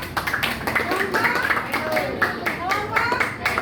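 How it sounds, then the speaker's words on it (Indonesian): A class of children claps for a student group in a school lesson, several short bursts of clapping with a voice and an adult's speech mixed in. "Tepuk tangan untuk kelompok."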